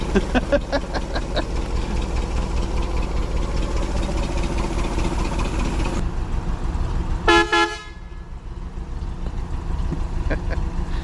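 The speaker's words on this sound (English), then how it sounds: "You like that horn, don't you?" Horn on a parked truck at a speed shop, sounding in a few quick blasts near the middle over steady idling engine and yard noise.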